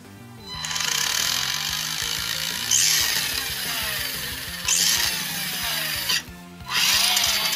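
Tamiya Grasshopper RC car gearbox spinning with loose, freshly greased gears, a steady close whirring drone with small rises in pitch and one short pause near the end, no talking.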